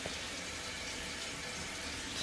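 Tap water runs steadily into a cooking pot, filling it for boiling frozen beef ravioli, a constant close rushing hiss with no other sound.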